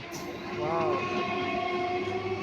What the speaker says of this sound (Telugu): చూడండి ఎంత వేగంగా సౌండ్ కూడా పవర్తో వెళ్ళేది కదా